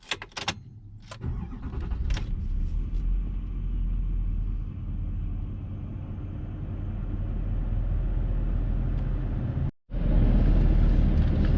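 A Duramax L5P diesel pickup truck fitted with Banks Power parts cranks and fires up, then settles into a deep, steady rumble while cruising. After a brief dropout the drone returns louder near the end.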